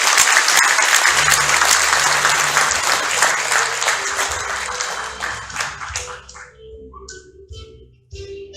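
An audience at a White Cane Day commemoration claps as honored guests enter, loud and dense at first, then thinning to scattered claps and fading out near the end.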